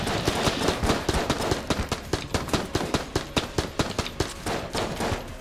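Rapid bursts of enemy gunfire in the dungeon-crawler game Enter the Gungeon, a dense, steady stream of sharp shots close and loud with no pauses, no talking over it.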